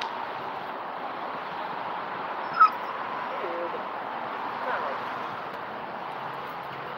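A dog whimpers and gives a short yip indoors, faint and brief against a steady background hiss, with one sharper cry standing out partway through.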